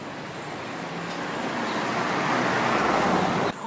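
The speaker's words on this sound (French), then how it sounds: "j'espère qu'il n'y aura pas trop de bruit de voiture comme celle-ci" A single car passes along a sunny Toulouse street in the morning, its broadband road noise swelling steadily and peaking near the end before cutting off, with no voices.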